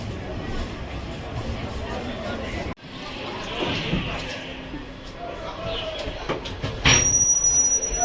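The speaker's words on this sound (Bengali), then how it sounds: "দার্জিলিং মেল তার যাত্রা শুরু করল শিয়ালদা স্টেশনের বারো নম্বর প্ল্যাটফর্ম থেকে" Rumbling train noise with rattling wheels on rails as the Darjeeling Mail gets moving from Sealdah station, a sudden jolt partway through, and a high squeal near the end.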